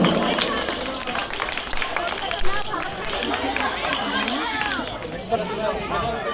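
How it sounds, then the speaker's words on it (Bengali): Clapping from a crowd at a school event, a continuous patter of hands mixed with chatter and a voice talking over the noise. "সবাই করতালি মাধ্যমে উৎসাহিত করুন"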